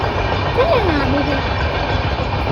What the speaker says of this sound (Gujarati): જો ટ્રેન નીકળી છે, જુઓ દેખાય ટ્રેન?